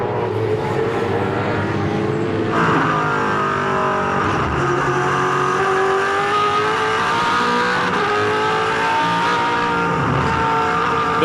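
Onboard race car at Oran Park with Lowndes at the wheel, held in third gear while climbing the hill: a loud, sustained engine note at full throttle that rises steadily in pitch, with no talk.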